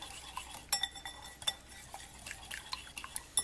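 French toast batter of half and half, vanilla and cinnamon whisked in a bowl, quick light clinks of utensil on the dish with soft liquid sloshing, close and fairly quiet.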